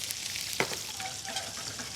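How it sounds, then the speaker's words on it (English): Eggplant frying in a hot pan of oil in a MasterChef Australia competition kitchen, giving a steady, close crackling sizzle with no talk. "we've got another hot pan with oil, and we want to start frying off the eggplant separately"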